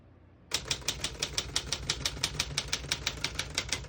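Rapid, even keystrokes on a 1952 Smith-Corona Silent portable typewriter start abruptly and continue as a close, crisp run of about twenty clacks at a steady rhythm over faint background hum.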